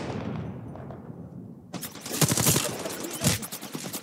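Rapid automatic gunfire from behind in a shooter game, sharp bursts of shots erupting loud and close after a quieter stretch of ambience and continuing in a rattling volley.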